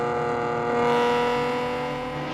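A Datsun 240Z engine revs hard toward 8,000 RPM on a winding mountain road, a loud, close, rising mechanical howl that swells sharply near one second and then holds before easing slightly, with no talking.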